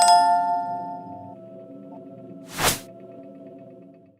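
A single bright bell-like ding sound effect rings out clearly at mid-clip, a short sharp chime standing alone over a low steady hum, after a sustained tone fades near the start.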